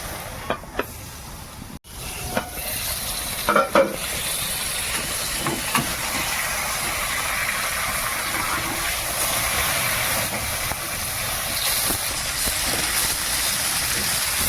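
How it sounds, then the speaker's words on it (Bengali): Brinjal (eggplant) pieces frying in a pan with a constant hiss and sizzle, a few clinks at the start, then a long, even frying sound. "বন্ধুরা বেগুনটা ভাজা হোক আর একটু ঢাকা দিয়ে দিই তাহলে একটু নরম হয়ে যাবে"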